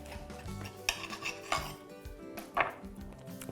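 Food is cut in half on a board with a knife. A few quiet, separate taps and clicks sound against faint kitchen background noise.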